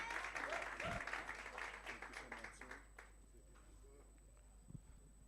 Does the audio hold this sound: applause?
yes